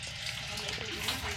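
Spring water runs steadily from a tap in a campsite washroom at Lake Tabeyo, Benguet, a continuous broadband gush with faint voices in the background.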